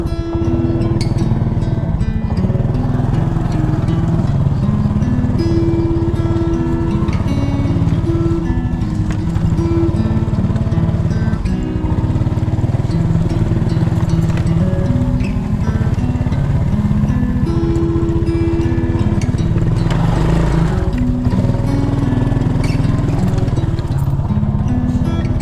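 A motorcycle rides through slippery mud past a closed gate, its engine chugging loud and continuous up close, with uneven knocks and splashes as the tires work through the muck.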